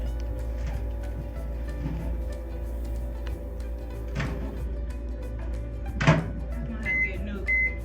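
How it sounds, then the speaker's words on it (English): A microwave oven heats a bowl of broccoli cheddar soup, giving a steady low hum with a few soft clunks partway through and short electronic beeps near the end. "You need to microwave that broccoli cheddar soup."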